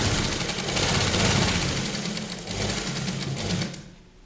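A sewing machine runs steadily while stitching a child's Patiala kurta, its fast, even motor whir and needle chatter continuing loud and close with a brief easing midway.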